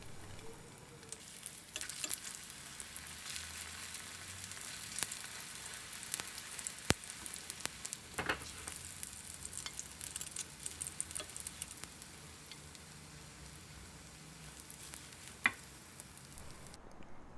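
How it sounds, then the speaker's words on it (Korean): Spicy fish cake pancakes fry in an oiled pan, giving a faint, steady sizzle and crackle with scattered small pops throughout, heard close and alone. "기름을 두른 후라이팬에 앞뒤로 노릇노릇 구워주세요."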